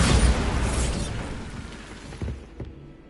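A Bombarda explosion spell in Hogwarts Legacy, a loud booming burst that decays over a couple of seconds, followed by a few smaller debris thuds.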